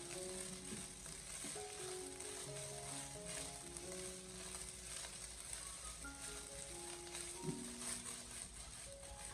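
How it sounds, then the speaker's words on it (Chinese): Leftover rice and egg stir-fried in a wok over high heat, giving a continuous close sizzle with scraping and tossing, while soft background music plays. "我们开大火把它持续的翻炒，大概1分多钟。"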